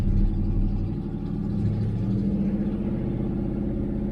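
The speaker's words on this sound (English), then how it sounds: "I'll rev it up a little bit." A loud 1976 Chevrolet El Camino engine with glasspack mufflers idles with a deep rumbling exhaust, then revs up briefly and holds at a higher, steady drone before easing back.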